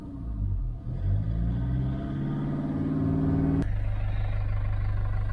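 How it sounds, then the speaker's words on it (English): Toyota Land Cruiser Prado 120 engine running rough, a steady low rumble with uneven pulsing that shifts partway through into a heavier, more constant drone, close and alone. "Now here the engine is not running nice."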